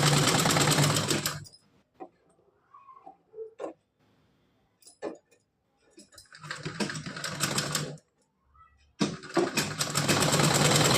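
A sewing machine runs in three close, loud bursts, stitching gota patti lace trim onto a small frock-style dress, with quiet handling clicks and rustles in the pauses between runs.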